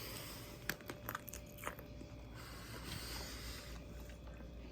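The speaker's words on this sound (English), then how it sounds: "let's give it a bite." A bite into a garden vegetable sausage with a snappy casing, heard as a few close, soft crunching bites followed by quiet chewing over a steady low background hum, with no talking.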